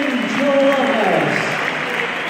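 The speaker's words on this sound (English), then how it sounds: "Good cheering." A football stadium crowd at Everton vs Sunderland cheers and applauds in a broad, sustained roar, with a voice speaking over it.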